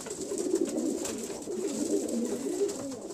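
Pigeons coo loudly and continuously at close range while fighting, with overlapping throaty, rolling calls over a faint steady background hiss.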